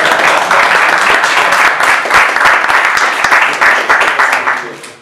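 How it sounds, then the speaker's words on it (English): Applause from a conference audience after a talk on running SMP Linux, dense steady clapping that fills the room loudly and fades toward the end. "Round of applause."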